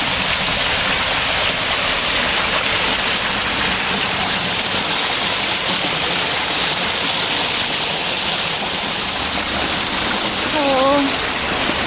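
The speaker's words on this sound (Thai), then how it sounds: "ฉันเห็นน้ำตกแล้วฉันเห็นน้ำตกแล้ว" A forest waterfall pours in a steady, loud, broadband roar that fills the whole stretch without pause, close by, with a faint voice briefly heard over it near the end.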